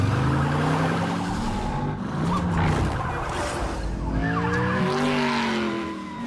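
A car tears off through narrow London streets during a police chase, its tyres skidding and engine roaring loud and continuous for several seconds.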